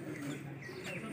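Pigeons kept by a fancier coo softly and steadily in a loft, a low continuous murmur with faint chirps and some background noise.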